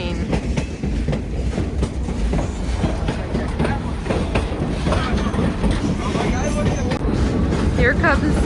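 Steady rumble and clatter inside a Verde Canyon Railroad passenger car, with continuous rail noise and faint wheel clicks while people chat nearby.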